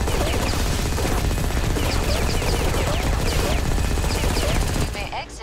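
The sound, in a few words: heavy machine gun firing armored shells, video game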